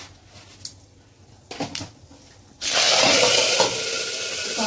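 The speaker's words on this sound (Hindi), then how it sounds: "तेल गरम होने के बाद संगवारी अपन डालते हैं सरसों" Mustard seeds hit hot oil for a Chhattisgarhi greens and vada dish, bursting into a loud, steady sizzle after a couple of quieter clatters, crackling on close and unbroken to the end.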